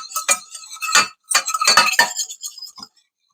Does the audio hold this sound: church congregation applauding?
no